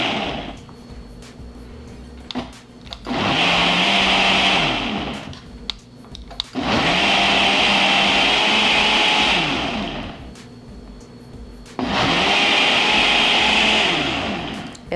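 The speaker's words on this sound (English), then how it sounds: "We're gonna blend smoothie." A blender on a smoothie setting mixes a berry protein smoothie with honey, its loud, close whirring running in three long bursts separated by brief pauses.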